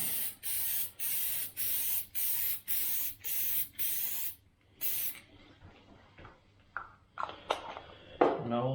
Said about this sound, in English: I also like to spray the inside of the die.